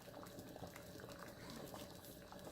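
Gumbo of shrimp and turkey sausage simmering in a pot just below medium heat, a steady soft bubbling and churning with faint pops, close and continuous, no talking.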